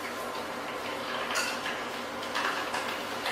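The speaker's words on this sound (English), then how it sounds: "so I'm going to pop the sausages in" Sausages go into a pan of hot fat, giving a steady bright sizzle with a few clinks of metal against the pan.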